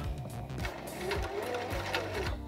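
A sewing machine runs in quick repeated stitching bursts while backstitching to lock a seam on a lace front wig, its mechanical clatter rhythmic and close.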